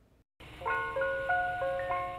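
A tinkling ice cream truck jingle plays its melody steadily in clear repeating notes, loud and alone, after a brief silent gap at the start, in Albuquerque on a December day.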